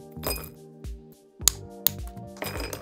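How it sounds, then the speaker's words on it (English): Normal ice cubes dropping and clinking into a rocks glass, several hard clattering knocks with bright ringing clinks, close and fairly loud with no talking. "I'm gonna use just a rocks glass, normal cubes."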